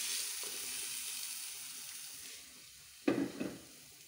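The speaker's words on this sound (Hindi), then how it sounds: "ये जो तड़का है वो इसको इसके अंदर शिफ्ट कर देंगे।" Hot tadka poured into cooked masoor dal bursts into a sharp sizzle after a quiet frying hiss, a brief loud crackle that fades within half a second, with no talking.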